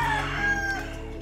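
Roosters crowing and hens clucking close by, a sustained crow over a busy farmyard background.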